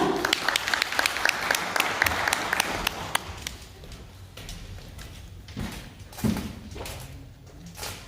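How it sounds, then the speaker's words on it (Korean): An audience at a Korean law firm presentation applauds to welcome a partner lawyer to the stage. Brisk, fairly dense clapping fills the first three seconds, then fades into room noise with a few soft thumps and shuffles. "큰 박수 부탁드립니다."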